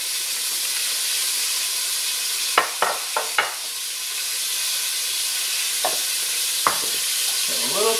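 Chicken pieces for cacciatore frying in a pan, giving a steady, loud sizzle and hiss with a few sharp spatters and scrapes over it, heard up close with no talking.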